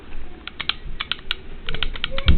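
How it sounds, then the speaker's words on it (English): Trigger of a Smart Parts Epiphany paintball marker clicking close up, a quick irregular series of sharp, light clicks, some in rapid bursts, with no talking over them. "right now you should hear a clicking for every time I press the marker's trigger now"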